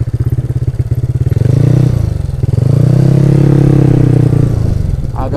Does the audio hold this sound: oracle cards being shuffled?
no